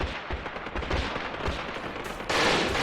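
Machine guns firing in the tactical war game Graviteam, a rapid rattling stream of gunfire with overlapping bursts, loud and close, with a brighter, harsher burst near the end.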